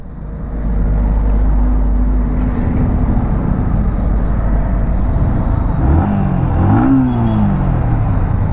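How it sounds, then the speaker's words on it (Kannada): A Yamaha XSR 155 motorcycle engine fires up and settles into a steady, loud, close exhaust idle, with a short blip of revving rising and falling near the end. "ಎಕ್ಸಾಸ್ಟ್ ಸೌಂಡ್ ಈ ಥರ ಕೇಳಿಸುತ್ತೆ"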